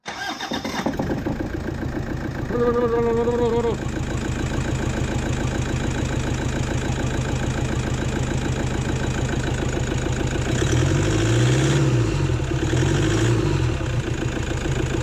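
A high-mileage Toyota 3UZ V8, running on only three cylinders in a 2007 Hilux Vigo swap, starts up and settles into a steady, pulsing idle, with a brief voice partway through and low rumbling near the end.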